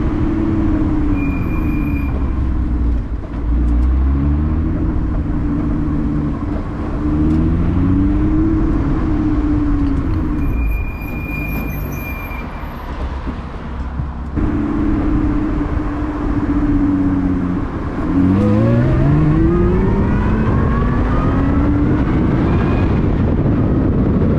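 A Lotus 3-Eleven sports car engine roars loudly and continuously from the driver's seat on city roads, its pitch sweeping up through the gears in repeated rising bursts.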